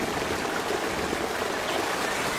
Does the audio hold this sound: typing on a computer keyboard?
no